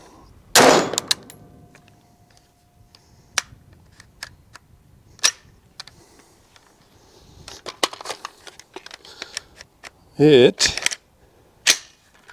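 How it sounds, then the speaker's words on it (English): An IWI Carmel rifle has its bolt worked by hand to chamber a round, giving a few sharp metallic clacks and rattles scattered over quiet gaps, close by, with a brief bit of speech. "chambered around, but the bolt didn't go all the way home"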